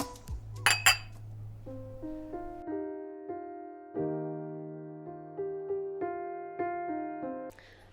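Glasses clink together in a toast during a celebratory scene in an Amharic film, with a couple of bright, quick clinks near the start, followed by sustained music tones.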